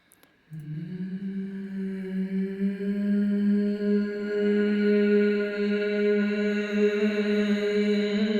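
A soft sustained synth tone fades in and slowly swells, holding steady with a reverberant wash and no other sounds.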